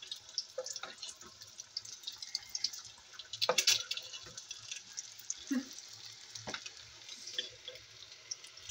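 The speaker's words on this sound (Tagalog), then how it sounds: "Ready to fry na." Crackling sizzle of kwek-kwek, quail eggs coated in an all-purpose flour batter, frying in hot oil, a steady fine spatter punctuated by louder pops and clinks of utensils in the pan.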